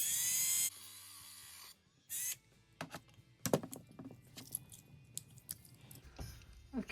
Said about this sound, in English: I'm just going to make a cut right there with the Dremel tool and get this cab released